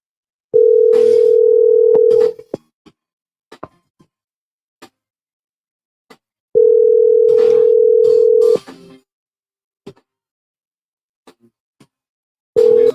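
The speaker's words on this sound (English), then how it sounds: "I want to make one quick phone call" Ringback tone of a phone call being placed, two long steady tones about six seconds apart and a third starting at the end, with faint clicks and small knocks in between and no speech.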